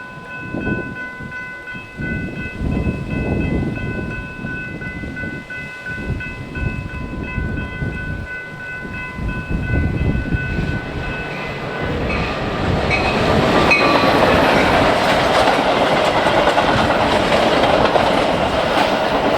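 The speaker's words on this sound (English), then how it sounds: "Another express train flies through LaGrange behind rebuilt F40 PH-3 Metro number 181." Metra express train hauled by a rebuilt F40PH-3 locomotive, number 181, racing through LaGrange on the BNSF line, approaching with a held horn chord, then a loud rushing roar and rhythmic clickety-clack of wheels as it passes close by.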